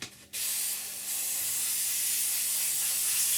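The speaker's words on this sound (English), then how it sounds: "We're just going to put our airbrush cleaner through it" An airbrush sprays cleaner straight through its nozzle in one steady, close hiss that starts after a brief pause and runs unbroken to the end, with no voices over it.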